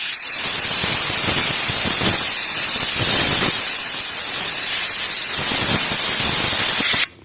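Compressed air blasts dust from an old device stored in a box for about 30 years, a loud, close, continuous hiss with gentle surges that cuts off abruptly at the end.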